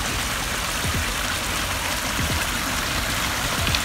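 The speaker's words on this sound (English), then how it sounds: "I'm just out here with the waterfall and got all the aspects of the water features working" A backyard garden waterfall and water feature, with water running down the fall and out of a pipe into a small creek, pours in a steady, close, even rush of flowing water, with no talk.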